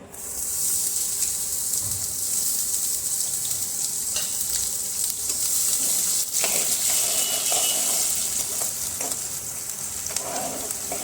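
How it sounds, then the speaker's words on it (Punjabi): Onions frying in oil with cumin give a steady, close, loud sizzle with occasional stirring scrapes throughout. "ਪਿਆਜ਼ਾਂ ਨੂੰ ਆਪਾਂ 2-3 ਮਿੰਟ ਵਾਸਤੇ ਫਰਾਈ ਕਰ ਲਵਾਂਗੇ ਭੁੰਨ ਲਵਾਂਗੇ"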